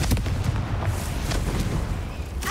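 A Confringo blasting spell in Hogwarts Legacy, a series of muffled booming blasts with rumbling low-end crackle, fairly close and moderately loud, repeating several times in quick succession.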